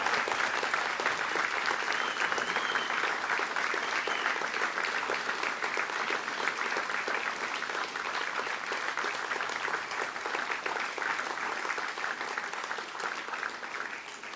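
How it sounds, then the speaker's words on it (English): An audience at a fire and rescue recruit graduation ceremony applauds its graduating firefighters, a steady, dense clapping that fills the hall for its whole length without pause. "join me in a round of applause for our graduating firefighters"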